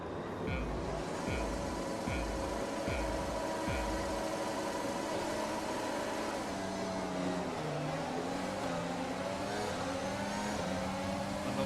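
Several open-wheel race car engines roar and rev together as the field launches off the grid at the Monaco Grand Prix in the F1 2020 video game, loud and sustained, with pitch rising through the gears.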